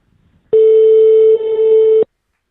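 A telephone ringback tone heard while calling a hotel: one steady, loud electronic tone lasting about a second and a half, starting and stopping abruptly, with no talk over it.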